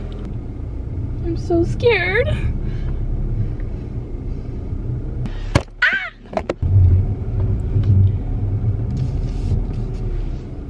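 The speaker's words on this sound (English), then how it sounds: "first time driving my dad's car" A dad's car is driven at low speed, its engine and road rumble a steady low drone inside the cabin, with a person talking briefly over it and some clicks partway through.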